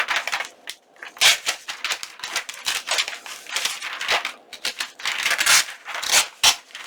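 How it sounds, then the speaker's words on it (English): Napkin paper is ripped off in a quick series of sharp crinkling tears and rustles, close and fairly loud, with no talking. "I'm going to just rip myself off a piece."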